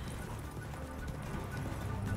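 A horse gallops in The Witcher 3, its hoofbeats a steady, muffled drumming that sits within a dense, continuous wash of game ambience and wind.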